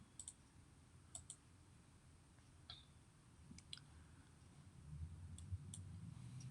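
Computer mouse clicking on a website link, faint sharp clicks in small clusters over a quiet, low background hum.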